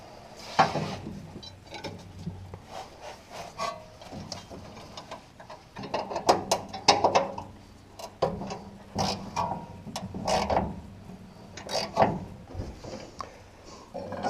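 Metallic clicks, ratcheting and clanks sound at close range as a shock mount is bolted back onto the front end of a 1968 Cougar during a rebuild, coming in irregular bursts over a quiet background.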